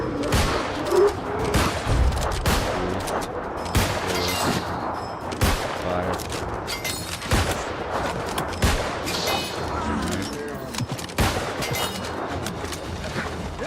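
Repeated sharp weapon shots in New World: Aeternum, fired in quick bursts of several blasts with short gaps between volleys, loud and close amid ongoing combat noise.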